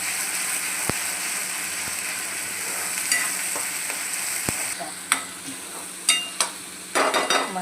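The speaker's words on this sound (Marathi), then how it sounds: "तेल चांगलं गरम झालं तर मसाला चांगलं परतून घेऊ." Masala sautéing in hot oil in a pan for anda masala, with a continuous close sizzle, several sharp ladle taps, and a burst of scraping stirs near the end.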